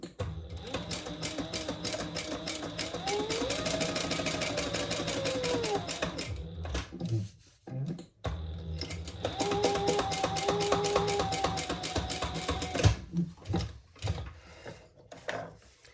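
A sewing machine runs in long, steady bursts while topstitching along the edge of a fabric clutch bag, with a short pause midway and then a second run. The mechanical whirring is close and loud, and it ends in a few scattered clicks.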